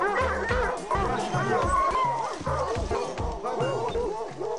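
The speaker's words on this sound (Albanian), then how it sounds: "Dogs have picked up the scent." Several tracking dogs bark and yip excitedly on the trail of a jaguar. The barks are repeated and close, and a voice talks over them.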